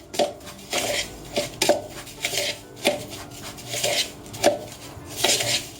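Chopped walnuts are stirred together with another filling ingredient in a bowl, giving a run of rhythmic scraping and clinking strokes of a utensil against the dish, close and moderately quiet, with no talking.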